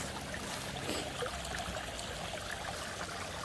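A small stream trickles through steep woodland while someone hunts for morels, a soft, steady babbling of water heard close and alone.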